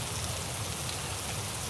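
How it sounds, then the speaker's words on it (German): Steady rain falling in pitch darkness at night during a bikepacking trip through Eastern Europe, an even, close hiss of drops on surfaces with no other sound. "regnet."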